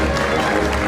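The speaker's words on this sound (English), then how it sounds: "Round of applause for the guy coming all the way from the back" Applause from a circus-style stage audience, a dense steady wash of clapping filling the short moment with no pauses.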